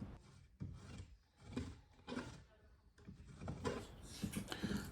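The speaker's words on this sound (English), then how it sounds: "I'm cleaning the slots from sawdust to make room for the strips of wood." Scraping and rasping of a tool clearing sawdust from slots cut in mahogany during restoration of a European work table, in repeated short strokes with brief pauses, close and moderately loud.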